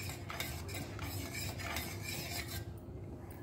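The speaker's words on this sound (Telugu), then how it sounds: "ఇట్లా కలుపుతూ ఉడికించుకోవాలి" Finger millet (ragi) kheer being stirred in a pot as it cooks: soft, steady scraping and rubbing strokes of a spoon against the pan, quiet and close, with no voices.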